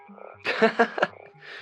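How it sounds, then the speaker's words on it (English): Natterjack toads in a back garden give several loud, close croaks in quick succession over a thin chorus of more distant calls. "We've got just the worst infestation of natterjacks."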